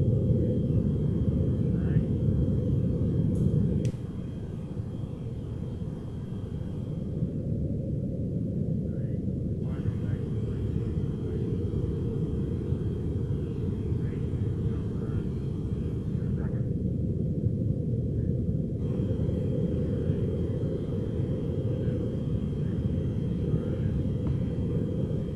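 A spacecraft in the video game Lunar Flight flies along with a steady low engine rumble and hum that holds constant throughout, with a brief shift in tone near the start.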